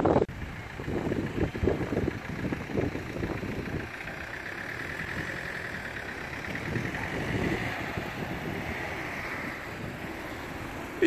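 Wind gusts buffet the microphone with a low, uneven rumble, surging and easing over steady outdoor street noise at a city bus stop in Sopron, Hungary.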